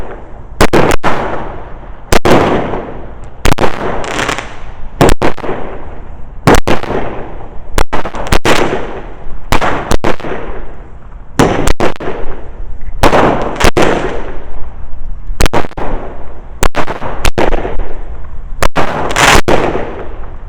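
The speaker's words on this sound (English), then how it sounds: "this is a 15-shot cake, so we know it's going to be 15 shots" A 15-shot firework cake firing outdoors, loud sharp bangs in a steady rhythm roughly every second or so, each followed by crackling bursts, with no voices.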